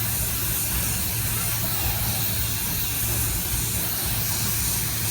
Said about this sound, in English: I want to think about different sections of the toy as I'm spraying, so you'll see as the paint goes on